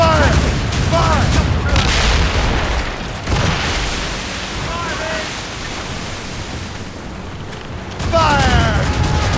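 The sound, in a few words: ship cannons firing in Assassin's Creed Rogue video game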